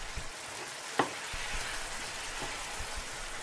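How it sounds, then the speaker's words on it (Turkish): Rice and curry powder are stirred in a pan, giving a soft, continuous sizzle with a few scraping taps and one sharper clink. "Köri tozunu da içerisine ilave ettikten sonra şöyle bir karıştırıyoruz."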